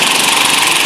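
An impact wrench works on the front strut nut of an Audi A4, giving a loud, steady buzzing hammer for under a second, close up and alone.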